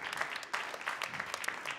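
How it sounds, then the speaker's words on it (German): An audience applauds the performers at an open stage night in a small venue, giving dense, lively clapping at moderate distance with no voices. "Applaus nochmal für alle Künstlerinnen, die heute aufgetreten sind"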